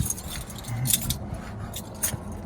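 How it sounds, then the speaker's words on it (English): Car keys jangling as they are pulled out beside a 2010 Saab 9-3, a few bright metallic chinks and rattles in small clusters over a low background rumble, close and moderately loud, with no talking. "Trying to get out my keys."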